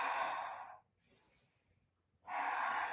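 Slow, deep yoga breathing sounds close up: a long, loud exhale, a quiet pause with a faint inhale, then another strong, airy breath out.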